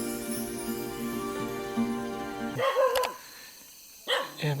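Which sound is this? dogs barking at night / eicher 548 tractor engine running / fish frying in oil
dogs barking at night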